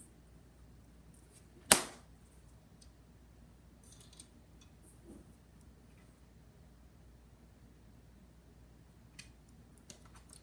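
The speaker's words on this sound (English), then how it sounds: "We're cutting off on these lines." Scissors snip once through an infusible ink sheet along printed lines, a single crisp close cut, followed by a few faint paper rustles and small ticks in an otherwise quiet room.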